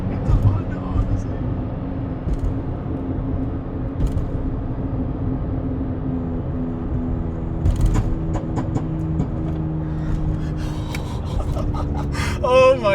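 A Honda Odyssey engine idles and revs with a low steady rumble all through, while people talk and react over it and faint clicks and rattles come near the end.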